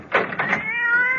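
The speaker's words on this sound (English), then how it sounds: "that damn cat!" A cat meows loudly and close in a radio drama, two short cries followed by a drawn-out wail.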